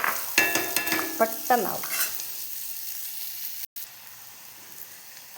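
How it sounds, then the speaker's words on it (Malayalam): Onions are sautéed in a pan for a yam (chena) roast: a spatula scrapes and stirs in quick strokes over a soft sizzle, with a brief spoken phrase. "എന്നിട്ട് നമുക്ക് ഉള്ളിയെല്ലാം വഴറ്റി ഇതിനെ അതിലേക്ക് ഇട്ട് കൊടുക്കാം"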